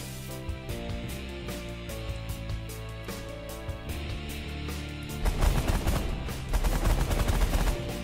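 Rapid weapons fire on a response hangar in the space strategy game The Last Federation: repeated staccato bursts like machine-gun shots, steady at first and then growing louder and denser, with no speech.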